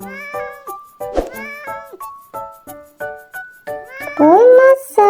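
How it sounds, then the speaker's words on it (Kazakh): A cat meows several times, close and clear, with a longer rising and falling meow near the end, set against a busy tonal musical backing. "Бұл мысық."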